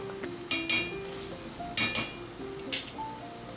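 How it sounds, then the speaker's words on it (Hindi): Spices roasting in a pan for a ghost dish, heard as a low steady sizzle broken by several sharp metallic clinks of a spoon stirring against the pan, fairly close and with no talking. "अब हम इसको 1-2 मिनट के लिए अच्छे से भूनेंगे।"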